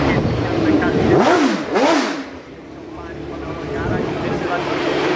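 A 1960s 2.5 litre four-cylinder race car passes at the Goodwood Festival of Speed, its engine rising and falling loudly in a close drive-by over a steady crowd and engine din.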